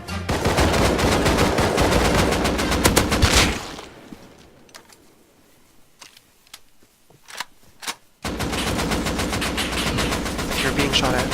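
Rapid automatic gunfire bursts loudly in a shooter video game, a dense rattling stream for several seconds, then a quieter gap with scattered single shots and clicks before another sustained burst of fire.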